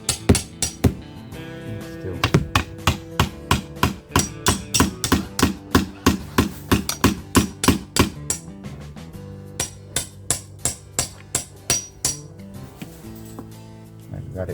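Rapid metallic hammer strikes on a Ferguson tractor's front wheel rim while a new tyre's bead is forced on, about thirty sharp, ringing blows in a steady rhythm that slows and spaces out toward the end, close and loud.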